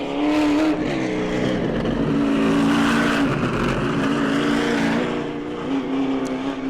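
A super late model race car runs its warm-up lap during Orange Blossom qualifying at New Smyrna, its engine a loud, steady roar that swells and eases as it circles close by, with no talk over it.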